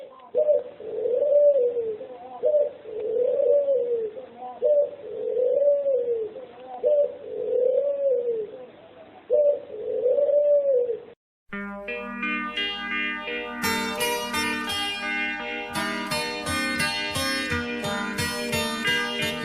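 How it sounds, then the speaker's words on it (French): Doves coo steadily in a repeating, throaty rhythm for about ten seconds, close and clear, before a loud burst of music takes over and the birds drop out. "la colombe est un oiseau cosmopolite, attachant et facile à élever"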